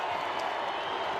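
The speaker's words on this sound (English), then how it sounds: "It's a good crowd on the western side of the ground." A large stadium crowd applauds and cheers as rugby league sides run out for a Brisbane grand final at Suncorp Stadium, Wynnum Manly against Redcliffe. The roar of clapping is steady and unbroken throughout.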